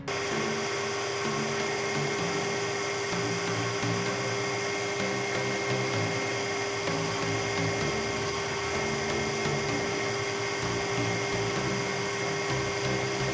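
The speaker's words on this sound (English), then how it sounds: "Let's drill some holes and see what we come up with." A continuous high-pitched drill whine runs the whole time, steady and loud, with faint grinding undertones as it bores holes into a wooden trout lure.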